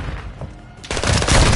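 Rapid gunfire bursts out in a Warzone match, starting after a quieter moment and then running as a loud, dense volley of repeated shots close by.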